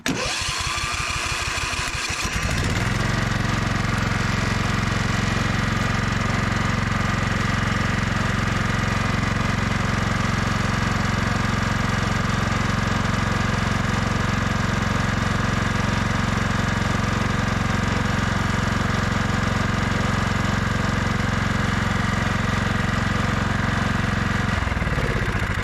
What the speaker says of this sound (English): let me fire up the engine